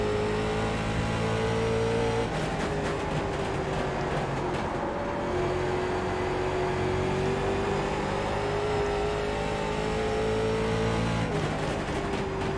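Late model race car engine in the iRacing game, lapping Five Flags Speedway: a steady, loud engine drone with a shifting pitch that dips and rises through the corners, continuous throughout with no talk.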